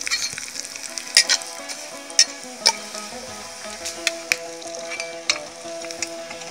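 Urad dal, cumin and garlic sizzling in hot oil for a tempering, a steady moderate crackle and hiss with sharp pops and stirring clinks scattered throughout, close by with no talk.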